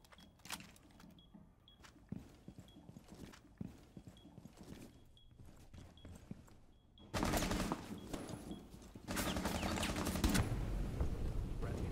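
Gunfire in Rainbow Six Siege, ranked play: sparse single shots and clicks at first, then a dense, loud burst of rapid shots and blasts that holds to the end.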